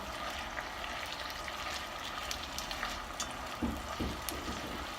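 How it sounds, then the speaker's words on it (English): Onions and garlic, with a spoonful of sofrito and a bay leaf, sizzle steadily in olive oil in a pan, a soft continuous crackle with a few louder pops and clinks near the end. "I'm letting my onions get a little tender and my garlic cook a bit into the oil"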